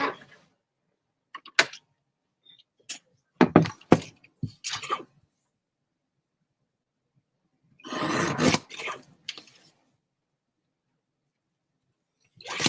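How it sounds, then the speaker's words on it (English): Paper being trimmed for a Stampin' Up craft project, a few short scraping, rasping cuts close by, then a longer rough rubbing burst, separated by silence. "I'm going to trim this off just a tiny bit."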